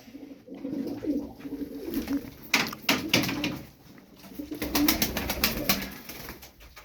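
Flock of Sarı Kır tumbler pigeons cooing in a low, soft, rolling murmur, with scattered wing flaps and clicks breaking through at moderate distance.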